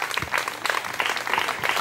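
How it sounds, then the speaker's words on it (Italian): Audience applause at a local event in Nociglia after thanks to the sponsors, a steady close clapping from a crowd lasting a couple of seconds with no speech over it. "Un altro applauso"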